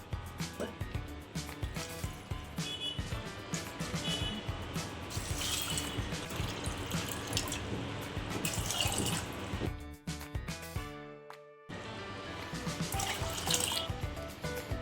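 Water poured into a cooking pot for chana dal, a steady close splashing and trickling stream lasting several seconds, with a short pause near the end.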